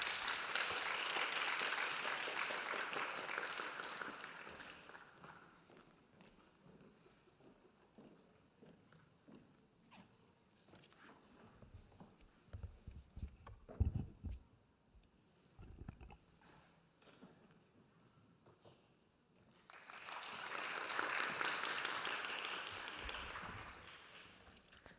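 Audience applause at an international world harmony conference greets a speaker, a full, steady wash of many hands clapping at the start, fading to a quieter stretch of scattered sounds, then swelling again into a second sustained round at the end.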